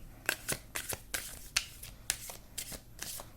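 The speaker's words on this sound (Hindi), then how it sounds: "चलिए कुछ और कार्ड निकालते हैं।" Tarot cards being shuffled by hand in a Hindi tarot reading, a quiet run of crisp riffling bursts and slaps recurring every half second or so, with no talking.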